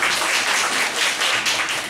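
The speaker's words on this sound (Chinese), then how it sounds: "那我们就再一次热烈掌声，欢迎朱嘉翰先生啊" Applause from an audience welcoming a guest speaker at a talk, a dense, sustained wash of many hands clapping, close and loud throughout.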